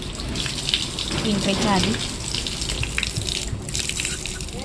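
Water running from a tap where hands and feet are washed at a temple entrance, a steady gush going on throughout, with a person talking over it.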